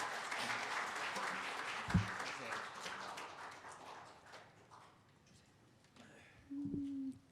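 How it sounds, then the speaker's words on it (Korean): Applause from a seated audience at an Ansan city council plenary session ceremony, a broad moderate wash of clapping that fades toward the middle, with a brief thump near the start and a low tone near the end. "다시 한번 큰 박수 부탁드립니다"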